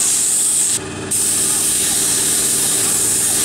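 An airbrush hisses steadily and close while spraying paint over a tattoo stencil, with a brief dip in the spray near the start before it resumes.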